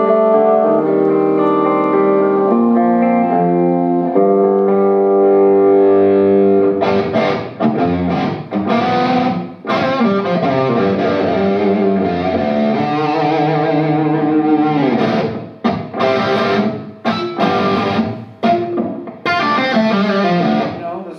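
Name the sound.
crunchy distorted electric guitar tones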